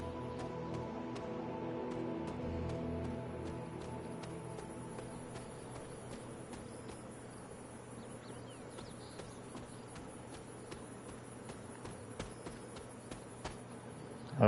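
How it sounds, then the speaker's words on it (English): Crickets chirp steadily in a nighttime forest scene in the video game Midnight Suns, a soft, dense insect trill with faint clicks and no talking. "Them crickets is loud."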